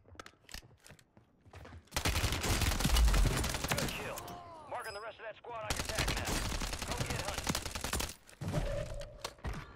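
Loud, rapid automatic gunfire from a UMP 45 submachine gun in a Warzone match on Rebirth Island comes in two long bursts separated by a pause where someone talks, with softer shots at the start and end.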